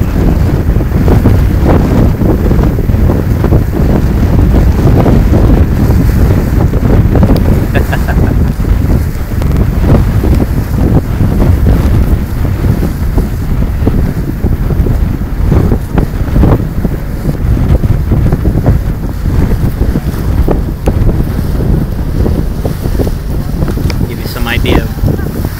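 Strong wind roars steadily over open ocean alongside the amphibious assault ship USS Makin Island, buffeting the microphone with constant rumble and splashing water for the whole stretch.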